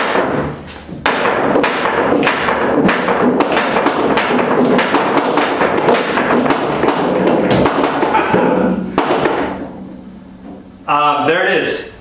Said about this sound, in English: before the cue ball scratches, I'm going to jump balls 1 through 9